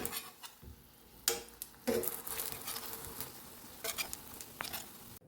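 Aloo tikki potato cakes frying a second time give a soft, steady sizzle with scattered clicks and scraping taps from a utensil in the pan, close but fairly quiet, with no talking.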